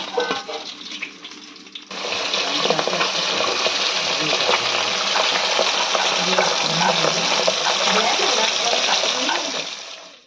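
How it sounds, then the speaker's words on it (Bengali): Pabda fish fry in hot oil, with a dense, steady sizzle and crackle that swells after a quieter opening and continues close up for several seconds. "বাকি পাবদা মাছগুলো আমরা এইভাবে ভেজে নেব"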